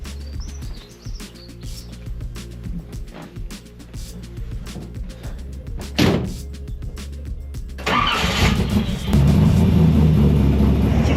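Hot rod engine idling and revving through a new fabricated stainless steel exhaust header, a steady low rumble that swells louder in the last few seconds, with faint bird chirps in the background.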